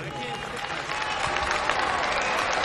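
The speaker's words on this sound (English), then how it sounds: "Please give big one round of applause." An audience at a large peace and unity conference in London bursts into loud, dense applause, a steady wash of many hands clapping that swells slightly as it goes on, with voices mixed in.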